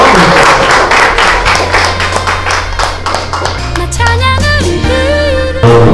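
A church youth retreat congregation claps loudly in welcome, close and energetic, over steady music with a sustained low bass note and melodic tones entering in the second half.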